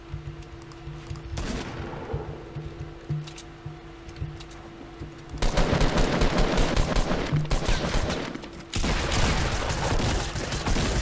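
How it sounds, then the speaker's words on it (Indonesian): Gunfire from a Fortnite Battle Royale team match: rapid volleys of shots, sparse at first and then heavy continuous bursts from about the midpoint, loud and close over a game music tone, with no talk. "Anjir, siapa tuh nembak gue?"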